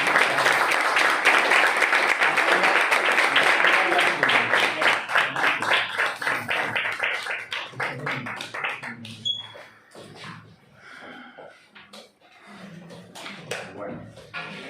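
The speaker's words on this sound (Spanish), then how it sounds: "vamos a recibir a nuestro amigo con un aplauso" An audience at a Spanish-language talk gives a dense round of applause that gradually thins out into scattered claps, and a voice starts talking as it fades.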